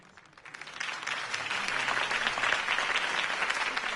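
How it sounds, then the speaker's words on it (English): A crowd in the Batman: The Telltale Series game applauds after a campaign speech. The clapping swells from quiet to a steady, full ovation with distant crowd murmur underneath. "could have heard that applause"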